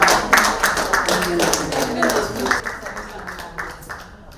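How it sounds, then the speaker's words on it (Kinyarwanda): An audience claps in a burst of applause that starts strong and gradually thins out, with a voice speaking over it. "nakomera amashyi"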